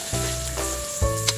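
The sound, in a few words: frying carrots in a pan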